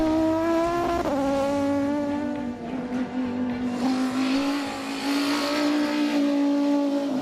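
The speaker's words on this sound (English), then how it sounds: "The engine sound up front when it's coming at you is freaking glorious" Volvo five-cylinder BTCC race car engine approaching, a loud, harsh, continuous buzzing howl that shifts pitch briefly as it changes gear, then keeps building as the car nears.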